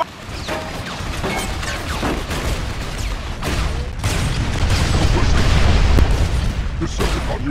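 Transformers Revenge combat with rapid gunfire and heavy explosions, loud clustered blasts and crashes that build into a dense roar, with voices speaking over them.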